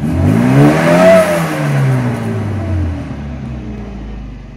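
A 1985 Austin Mini 1300 engine revs up close, its pitch rising to a peak and then falling away into a steady lower drone, with no talking.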